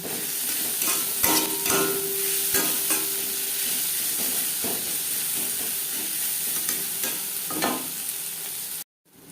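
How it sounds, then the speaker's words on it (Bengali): Onions frying in oil in a pan until reddish-brown, for a sponge gourd (chichinga) stir-fry: a steady close sizzle with intermittent scraping stirs throughout, cutting out abruptly near the end. "পেঁয়াজ লালচে করে ভেজে নেব আর লাগছে স্বাদ মতো লবণ"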